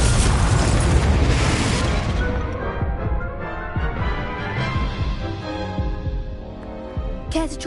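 The Confringo fire blast spell from the Hogwarts Legacy video game erupts in a loud, booming burst that rolls into a long, deep rumble, with a sharp crack of impact near the end.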